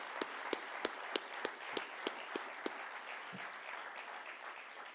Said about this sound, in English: request everyone to give a big round of applause to